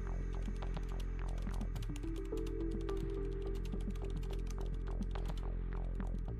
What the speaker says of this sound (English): Then you can type in a prompt.